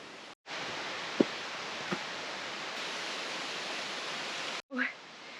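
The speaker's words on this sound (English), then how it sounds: "I hear the gushing sound of water." A waterfall gushes in a constant broadband rush, heard from a little distance, with a short break in the noise and a brief faint voice near the end.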